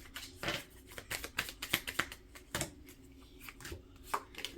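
Tarot cards being shuffled by hand give a quiet run of soft, irregular riffling clicks and flicks, with no voices.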